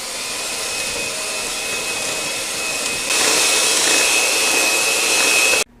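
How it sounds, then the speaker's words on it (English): An electric mixer blends cake batter on medium speed, a loud steady whir that grows louder partway through and then cuts off abruptly at the end, close and alone. "blend it with a mixer on medium for 2 minutes"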